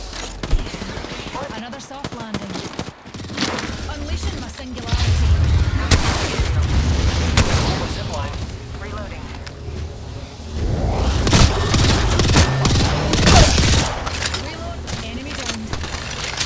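Gunfire in the video game Apex Legends on the Horizon map, with sustained rapid bursts and heavy booming shots rolling through most of the stretch, loud and dense, with brief quieter gaps.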